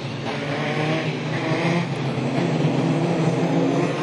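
Race cars at Gympie Speedway roaring off at the start, a dense steady engine drone with rising revs heard from a distance across the track, continuous throughout.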